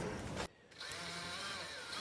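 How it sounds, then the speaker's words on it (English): A power drill whirs steadily as it bores into metal patio furniture, cutting out briefly before spinning back up with a high, grinding whine. "So then I just clamp it down and drill."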